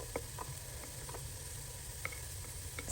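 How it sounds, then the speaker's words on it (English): Onion fries in olive oil in a pan as a steady, soft sizzle with scattered small pops and ticks, close and continuous for a few seconds with no talk. "And then I put onion."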